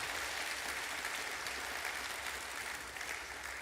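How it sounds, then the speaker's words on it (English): An audience applauds in a dense, steady patter of clapping that holds at an even level throughout. "A nice warm round of applause for Sir Tim Clark, President of Emirates."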